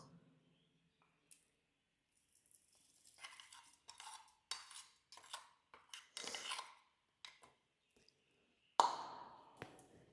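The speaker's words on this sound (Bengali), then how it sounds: "এবার এই মশলাটা দিয়ে কিন্তু আমি এটাকে মাখিয়ে নেব" Katla fish pieces are mixed with spice paste in a bowl, making faint, scattered soft clinks, taps and wet squishes in irregular bursts against near silence, with one louder clatter near the end.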